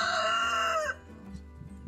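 An aggressive farmyard rooster crows once, loud and close, the call cutting off within a second and leaving faint background noise.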